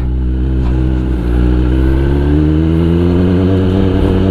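A Kawasaki ZX10R motorcycle engine revs loud and close with no voices, its steady harmonic drone climbing smoothly in pitch throughout.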